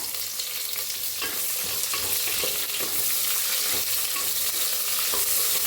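Onion, carrot and potato sizzle steadily in a hot pan while a utensil scrapes and stirs them in repeated strokes, close by and fairly loud.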